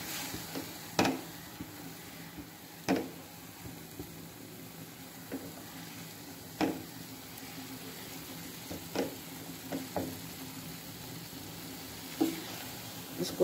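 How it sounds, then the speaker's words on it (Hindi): Tomato paste fries in a pan for a chicken vegetable soup, giving a continuous soft sizzle broken by sharp intermittent pops and spatters every second or two, close and moderate in volume, with no voices. "इसको अच्छे तरीके से हमने भून लेना है"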